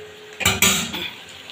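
Fried boal fish pieces dropped into a pan of hot oily spice masala, with a burst of clattering and sizzling followed by a softer hiss that fades as the pieces settle.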